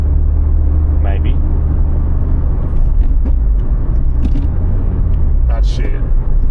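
A worn 2004 Honda Jazz with VTEC and a gearbox that pops out of fifth, heard from inside as a steady loud low engine and road rumble while people talk over it.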